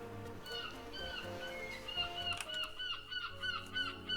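Birds in the video game CrossCode squawk and honk repeatedly, goose-like calls stacked over a layered game music bed, loud and close.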